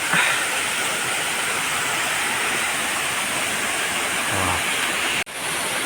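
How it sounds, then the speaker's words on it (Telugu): The Ithamanuguda waterfall roars in a loud, constant broadband rush, close and unbroken, with no voices. "ఇది వాటర్ ఫాల్"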